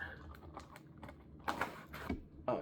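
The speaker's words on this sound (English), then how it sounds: "So I'm using my little trusty scissors here for anybody that's wondering." Small scissors snip open a package of mystery sports cards, a few sharp close clicks and crinkly bursts of torn wrapping over quiet room tone.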